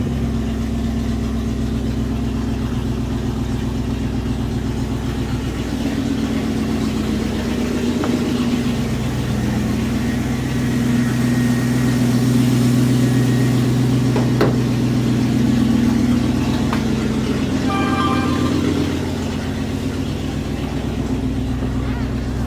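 A restored Dodge W200 truck engine idles with a loud, steady low rumble that holds evenly throughout, with a few faint mechanical clunks near the end.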